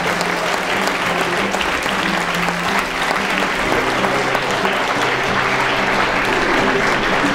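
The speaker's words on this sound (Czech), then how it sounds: "klidně našim nominovaným zatleskejte" At the Mohelnický talent 2018 awards ceremony, the audience applauds the nominees with loud, continuous clapping that fills the hall, while a low musical tone hums steadily underneath.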